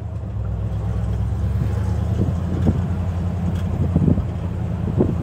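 A 1972 Ford F-100 Ranger pickup driving down the road, its steady low engine and road rumble droning close and continuous with some wind noise and a few faint knocks.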